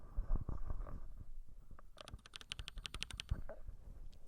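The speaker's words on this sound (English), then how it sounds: "that's the keyboard" Fast, light clicking of keys in bursts, fairly close, with softer rustling before it.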